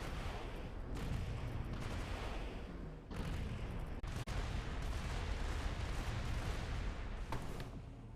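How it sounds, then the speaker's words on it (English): Plasma assault rifle firing in the Armored Core VI video game, a loud, dense, continuous barrage of roaring shots with brief dips around the three- and four-second marks, no voices. "Sounds like a chunky ass plasma, like assault rifle or something"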